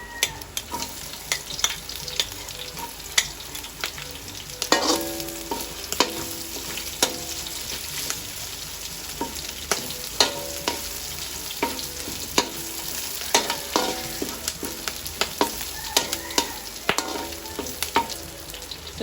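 Ginger sautés in a small amount of cooking oil, a continuous close sizzle punctuated by repeated clinks and scrapes of a spatula against the pan, with no one speaking.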